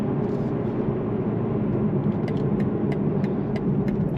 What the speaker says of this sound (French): on entend quand même encore légèrement le son du 6 cylindres